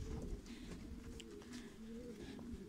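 A racing pigeon coos softly and repeatedly at a loft after a 185 km competition flight, faint and low-pitched against quiet background noise.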